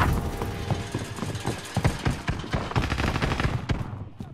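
Video game gunfire, rapid and repeated shots in uneven bursts that crackle steadily through the clip at moderate loudness, with little talk over them.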